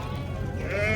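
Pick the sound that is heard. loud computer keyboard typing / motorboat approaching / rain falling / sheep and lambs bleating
sheep and lambs bleating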